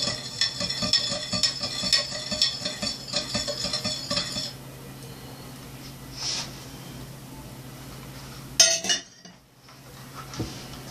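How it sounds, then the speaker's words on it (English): A utensil stirs sodium hydroxide solution for soapmaking, clinking and scraping steadily against a container for several seconds, then quieter handling and a final knock. "Give it a little stir before I start to blend it."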